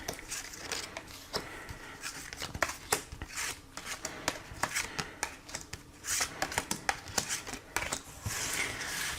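Tarot cards are shuffled by hand for a reading, giving a continuous run of quick crisp riffling and flicking close up, with no talking.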